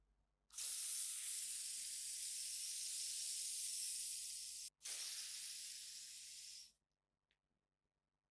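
Deodorant sprayed from an aerosol can makes a loud, steady hiss that lasts about four seconds, breaks off briefly, then runs about two seconds more before stopping, close and alone.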